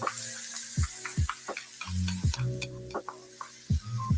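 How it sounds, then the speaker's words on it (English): Chickpeas with curry powder and garlic sizzle in a pot, a constant background hiss broken by repeated thuds and scrapes as the mixture is stirred. "Ooh, that's a little sizzle."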